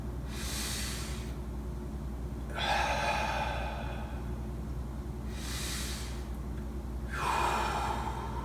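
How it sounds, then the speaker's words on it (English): Slow, deep breaths drawn in through the nose and let out through the mouth during a morning mobility workout, with two long inhale-exhale cycles, close and breathy, and no speech. "let's take 3 to 4 big healing breaths through our nose and exhaling through our mouth"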